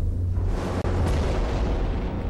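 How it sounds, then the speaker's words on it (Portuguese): A deep, sustained rumbling roar of the massive 1908 Tunguska explosion in remote Siberia, loud and heavy in the low end, with a brief cut partway through. "Um grande objeto explodiu em Tunguska, na remota Sibéria."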